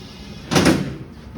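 A single solid thunk of a car door being refitted during bodywork, short and close, followed by quiet.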